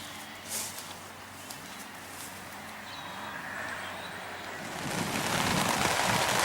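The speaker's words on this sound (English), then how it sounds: "back with some rain, a little bit of wind" Soft rain patters lightly at first, then swells into a louder, rushing downpour with a gusty edge toward the end.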